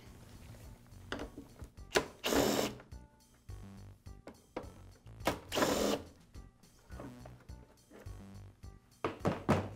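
Screws being removed from the motor cover of a Briggs & Stratton small engine: a series of close, sharp clicks, ratcheting and thunks, with brief bursts of louder metallic rasping between quieter pauses.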